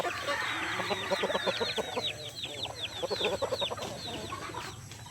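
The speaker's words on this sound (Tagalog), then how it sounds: "ito yung kanilang mga bagong sisiw" Parawakan and Decal Brown chicken chicks cheep continuously in rapid, high chirps, with softer clucking from adult fowl mixed in, close by.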